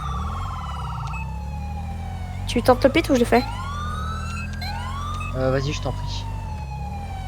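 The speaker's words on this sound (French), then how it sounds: "Je mets en code 2 parce que sinon les sirènes sont un peu trop fortes." Police car sirens in GTA V with the LSPDFR police mod wail steadily with rising and falling tones, broken by a short run of rapid yelp bursts midway, while people talk over them.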